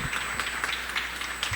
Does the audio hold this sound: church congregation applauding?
yes